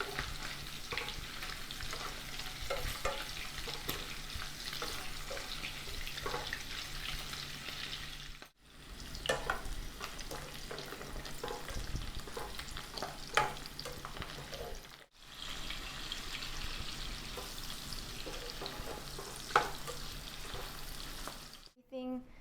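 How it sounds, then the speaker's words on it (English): Pork belly sizzles and crackles steadily in a hot pan, with stirring scrapes and two brief breaks in the frying noise. "Same pan and oil, I'm going to be frying up the pork belly now."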